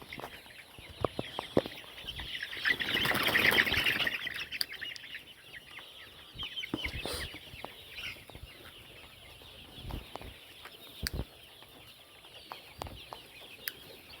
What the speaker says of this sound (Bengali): দেখুন মুরগি কেন দৌড়াদৌড়ি করতেছে